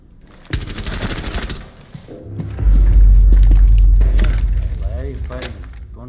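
Automatic weapon fire from Rainbow Six Siege gameplay, a dense burst of rapid shots followed by heavy low thuds and rumbling impacts, with people talking over it.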